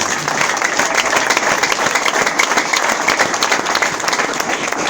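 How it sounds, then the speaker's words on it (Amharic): A church congregation applauds steadily throughout, a dense sustained clapping from many hands at a loud, even level with no speech over it. "አጨብጭቡለት ጎበዞች።"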